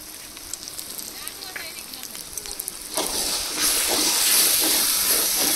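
Dried red chili paste dropped into hot oil while cooking meat curry in a village kitchen, a soft hiss that swells into a loud, steady sizzle partway through, with no one talking.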